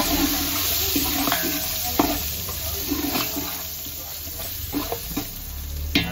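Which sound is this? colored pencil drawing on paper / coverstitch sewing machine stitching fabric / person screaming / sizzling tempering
sizzling tempering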